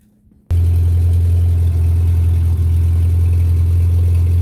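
A 1987 Suzuki Samurai engine fitted with a new large coil catches abruptly and settles into a loud, steady, low idle that holds close and even for several seconds.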